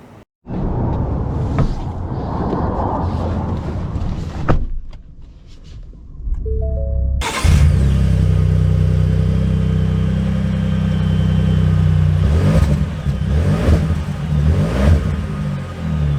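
A Ford F-150 Black Ops pickup truck pulls away with a loud, close engine that surges and revs steadily after a quieter stretch of cabin sound and brief clicks.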